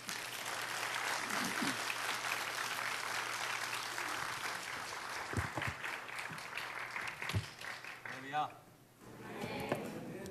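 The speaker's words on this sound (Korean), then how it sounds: "박수로 환영하겠습니다" A church congregation claps to welcome a visiting pastor at a worship service, a broad wash of applause that gradually thins and fades toward the end, with voices speaking over the tail.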